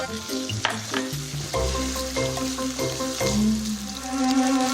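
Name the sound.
ground beef stir-frying in hot oil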